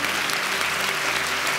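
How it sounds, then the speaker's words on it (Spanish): A church congregation applauds at a worship service, a steady, dense wash of clapping that holds evenly for the whole moment with no voices over it. "Dale un aplauso fuerte al Señor."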